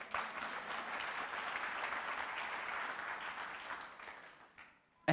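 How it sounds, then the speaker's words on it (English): A church congregation applauds with dense, sustained hand clapping for about four seconds before it fades out. "give the Lord a hand clap"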